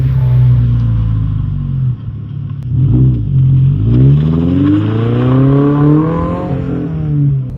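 A car engine revs hard toward the limiter on an open road, its rising and falling exhaust note loud and close, with crackling pops in between revs and no voices.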